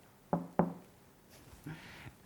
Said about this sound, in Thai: LG InstaView Door Indoor นะครับเคาะเบาๆสองครั้ง